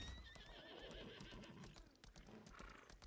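Horse whinny in the video game Lost Ark rings out as a short, high neigh over clip-clopping hooves, fairly close and alone.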